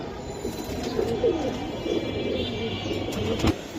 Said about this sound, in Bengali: ভাই, এই যে আরেকটা জোড়া সিলভার কবুতর ভাই।